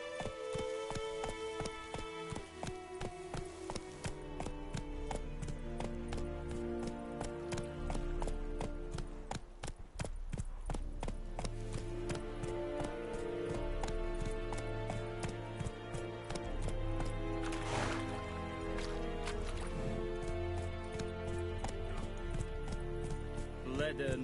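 Galloping hooves of Roach, Geralt's horse in the video game Witcher 3, a steady rhythmic clip-clop running under loud music, with a voice speaking over it.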